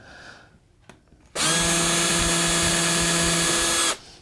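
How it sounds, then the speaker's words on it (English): A power drill bores into wood for a sign overlay, a loud steady whine with harmonic tones that starts abruptly, runs for about two and a half seconds, then stops, after a few faint knocks. "I almost drilled that knot"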